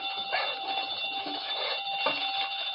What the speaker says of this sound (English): Safe connected with burglar alarm.